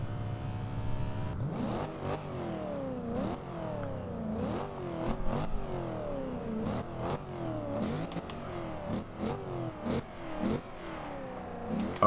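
A 2014 Chevrolet SS revs hard in Forza Horizon 2, its engine note repeatedly climbing and dropping through a series of rising sweeps as it accelerates and shifts gears, heard up close and alone.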